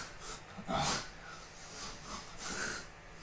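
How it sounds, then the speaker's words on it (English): A person sniffs sharply through the nose, a short breathy intake near the mic followed by a few softer sniffs, with no talking. "You have successfully performed a sniff."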